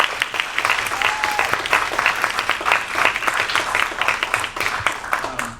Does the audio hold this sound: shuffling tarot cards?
no